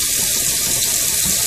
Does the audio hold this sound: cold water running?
yes